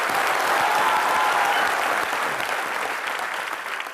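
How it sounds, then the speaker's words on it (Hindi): A studio audience claps loudly and steadily for boxer Mary Kom on a comedy show stage, dense applause holding at full strength before easing slightly toward the end. "जोरदार तालियां एक बार मैरी कॉम के लिए"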